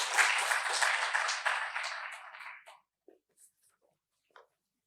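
An audience at a Nobel Laureates research talk claps to welcome a speaker, dense applause that fades out after nearly three seconds, leaving a few scattered soft claps and small noises.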